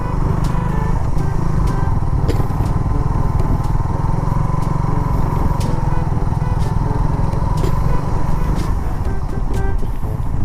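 A freshly washed motorcycle rumbles steadily while riding through town, its engine drone close and constant with occasional rattles and clicks.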